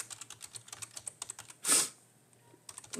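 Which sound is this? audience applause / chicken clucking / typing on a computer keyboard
typing on a computer keyboard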